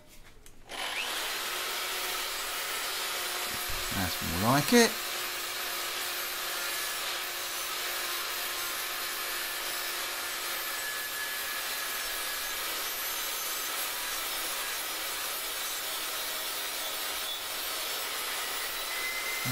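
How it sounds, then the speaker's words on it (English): A power tool with a sanding sleeve on a rubber mandrel grinds a farrier's rasp being made into a cleaver, a steady close abrasive whir running throughout after a short burst of handling noise, with one brief spoken remark near the start. "Get the power tools on it."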